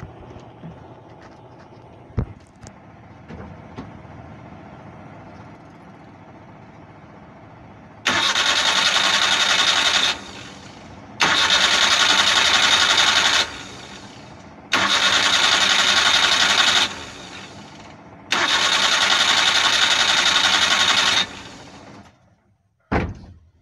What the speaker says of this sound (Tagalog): Ayaw talagang umandar ng makina dahil sa pagkakabasa ko sa distributor na ito.